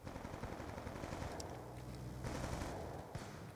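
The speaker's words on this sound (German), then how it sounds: "Da ist, glaub ich, ein Geschütz oder so." Gunfire in the video game Black Ops 2, a steady low rumble of distant weapon fire with a few sharper shots over it, continuous through the moment.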